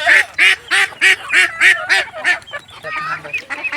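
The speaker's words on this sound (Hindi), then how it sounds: "ये सुबह ये बतखे हैं जी।" Farm ducks beside a pond quack loudly and close by in a rapid series of about eight evenly spaced honking calls, then a looser scatter of softer overlapping quacks.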